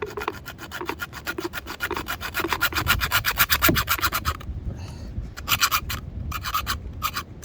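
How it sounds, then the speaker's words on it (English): A hacksaw cuts through an oil line in fast, regular close rasping strokes, briefly pausing then resuming in short bursts. "So oil line needs to be about there. I always use a hacksaw."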